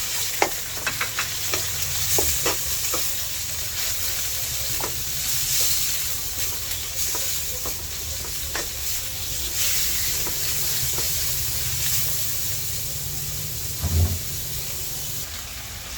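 Ground pork stir-frying in a pan for stir-fried vegetables, a steady sizzle and hiss with scattered scrapes and clicks of stirring throughout, close and continuous.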